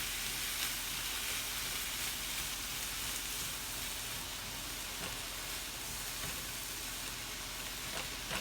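Oyster sauce and other ingredients being stirred through a hot pan of fried rice, with a steady, dense sizzle and faint scraping that continue evenly throughout and no talking.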